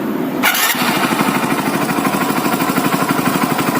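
A BS6 Splendor motorcycle engine with timing chain noise kicks to life with a sharp burst, then settles into a loud, rapid, throbbing idle, close by.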